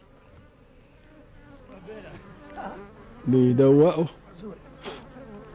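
Bees buzz around a honeycomb in a loud burst lasting under a second, with quieter insect droning before and after as a person talks over it.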